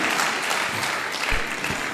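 Guests at a North East Day of Literature event give a sustained round of applause, a thick, even wash of many hands clapping at once with no speech on top.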